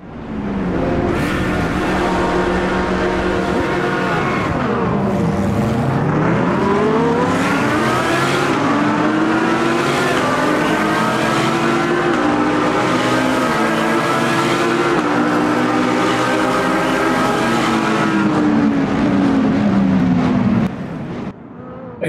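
GT3 race cars roar off the grid at Monza in the Automobilista 2 racing game, a dense pack of engines revving and rising through gear changes, loud and sustained for about twenty seconds with no talking.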